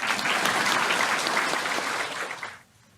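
Audience applause at a Buddhist sutra lecture, a dense steady clapping that fills the room for about two and a half seconds before dying away quickly into quiet.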